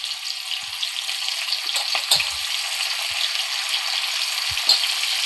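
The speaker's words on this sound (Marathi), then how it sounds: "आता कढीपत्ता टाकला." Curry leaves sizzle and crackle in hot oil while a fish curry is being made, a steady close frying hiss with a few sharper pops and stirring clinks.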